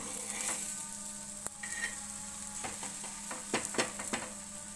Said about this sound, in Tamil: மீடியம் ஃப்ளேமில் வச்சுட்டு தான் ஃப்ரை பண்ணணும்